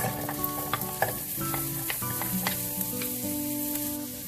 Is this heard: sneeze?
no